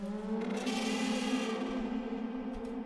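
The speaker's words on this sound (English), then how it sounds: "I think we could do a little bit more reverb on that." Clicking sounds processed with a reverb effect, producing a smeared, echoing tonal wash with ringing overtones that swells and lingers, a faint click or two near the end and no talking.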